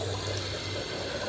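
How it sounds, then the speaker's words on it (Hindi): Water rushing from a leaking pipe at a farm house, a dense continuous hiss and gush filling the short stretch with no pause and no voices. "पाइप हो गया लीक और सारा पानी भर गया।"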